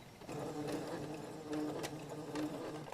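A sewing machine stitches a curved seam on a fabric face mask, a close rapid whirring buzz with steady mechanical ticking that runs almost without pause.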